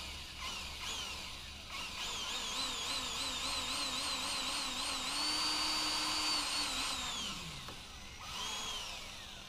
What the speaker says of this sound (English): I'm going to go ahead and just drill one of these holes out